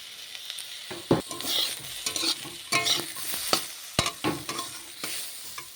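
Chopped onions frying in a pan, a bright crackling sizzle punctuated by frequent sharp spatula scrapes and knocks against the metal, close and busy, with no speech.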